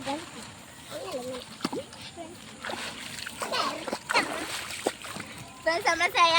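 Water splashes and sloshes close by as a child plays in a pond, with children's voices chattering and squealing over the splashing.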